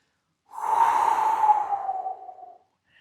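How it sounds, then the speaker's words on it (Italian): A deep breath taken together by a group sounds as one long, close exhale lasting about two seconds, rising quickly and fading out into silence. "Adesso dai, fate un respiro, anzi facciamo un respiro tutti insieme."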